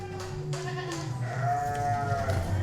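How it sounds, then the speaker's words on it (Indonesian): A female Boer goat bleats close by, several wavering calls overlapping with other bleats from nearby livestock. "Ini kambing bur betina."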